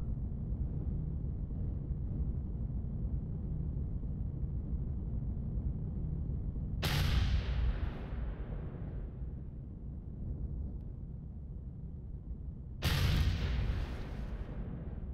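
Two heavy blasts from turrets firing in the video game Empyrion, each a sharp broadband boom with a long fading tail, spaced several seconds apart over a steady low rumble, with no talking.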